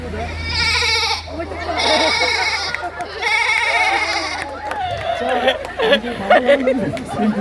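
A person imitates a goat at a Pohela Boishakh costume event, giving several drawn-out bleating calls amid crowd chatter and other voices close by.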